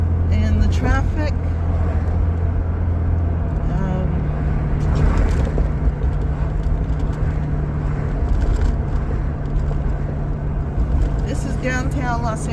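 Downtown Los Angeles road traffic makes a continuous wash of passing cars and engine rumble, loud and close, with talking over it.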